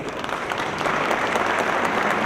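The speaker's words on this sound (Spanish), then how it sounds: "Otro aplauso, ¿no?" A panel audience applauds a departing speaker, steady dense clapping throughout, loud and close, with no break.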